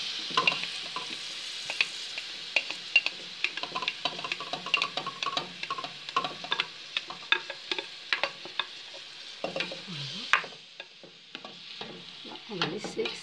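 Scooped-out trimmings from vegetables for stuffing sizzle steadily in a pan of olive and sunflower oil, with frequent clicks and scrapes of stirring and a brief quieter dip near the end.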